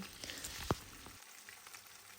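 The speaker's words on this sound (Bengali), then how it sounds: "আমি পেঁয়াজগুলোকে একটু ভালো করে ভাজা ভাজা করে নেব" Large onions sizzle softly in a frying pan in a home kitchen, making a quiet, steady crackle with one sharp click early on.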